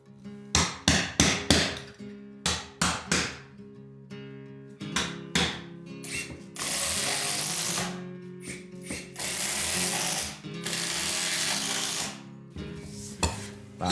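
A hammer drives a chisel into wood to cut shallow recesses for screw heads in plywood-backed flooring during a carpenter's entryway renovation; sharp repeated taps come in close bursts, with longer scraping stretches between them.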